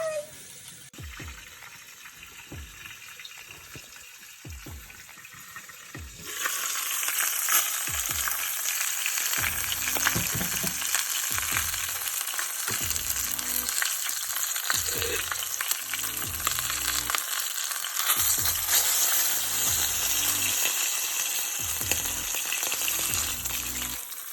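Oxtails browning in a hot pan give a steady sizzle that starts softer, then swells sharply louder partway through, with recurring scraping and stirring knocks as the pieces are turned; no one speaks.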